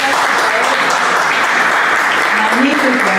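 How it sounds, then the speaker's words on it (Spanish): Loud, sustained applause from an audience at a theatre and literature gathering, a thick continuous roar of clapping with faint voices mixed in underneath. "Otro aplauso."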